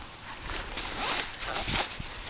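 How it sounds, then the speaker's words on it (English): Zippers on a hiking backpack drawn open in several quick rasping pulls, close and fairly loud, with light rustling of fabric between strokes and no talking. "These zippers go down quite a bit farther"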